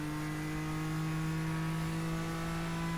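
A GTP prototype race car engine at Daytona drones loud and steady with a strong tonal hum and a constant buzzing roar, close up and on board, with no break.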